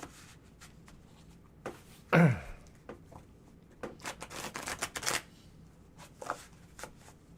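Tarot cards are riffled and shuffled close by with quick papery flutters and slaps, in bursts over a quiet room.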